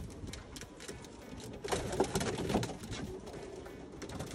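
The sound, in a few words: pigeons cooing in a loft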